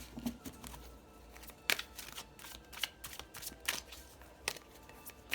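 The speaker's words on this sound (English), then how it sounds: "I'm going to pull a 3-card spread with the Zen Osho Tarot for you." A Zen Osho tarot deck being shuffled: quick papery riffles and slaps come in irregular bursts, some sharper than others, fairly soft and close, with no talking.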